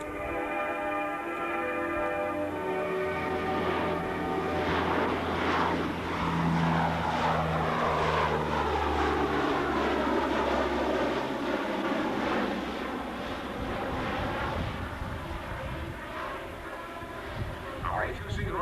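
An E-2C Hawkeye propeller airplane drones past at about 200 feet and 105 knots near a carrier deck, its engine roar rising and shifting in pitch as it flies by, with wind noise throughout.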